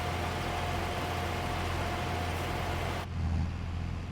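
Tractor engine in a farming simulator game, a steady droning hum at constant pitch that cuts off abruptly near the end, leaving a lower rumble.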